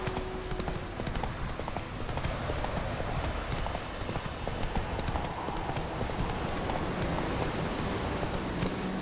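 Steady clip-clop of horse hooves from The Witcher 3 video game, a continuous trotting rhythm under dense background noise with faint rain-like hiss and a brief voice.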